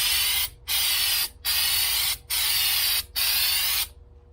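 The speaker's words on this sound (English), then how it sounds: "I just gotta spray this stuff from like really far away." Aerosol spray can applying protective coating to a Dodge RAM bed-mounted storage box, sprayed from a distance: four steady hissing bursts of about a second each, separated by short gaps, close and fairly loud with no talk.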